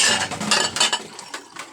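Spoons and dishes being washed by hand, with close, busy clinks and scrapes of metal cutlery against plates and running water in a steady, clattering rhythm.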